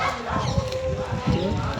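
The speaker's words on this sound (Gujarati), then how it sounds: "કૂતરો એ બોલે મારી લાઈનમાં બધું સંભળાય છે" A dog barks a couple of times close by, under a steady background hum and muffled talking.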